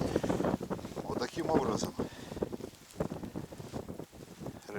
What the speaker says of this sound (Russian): На улице по-прежнему еще не потемнело, но ужасный ветер до сих пор.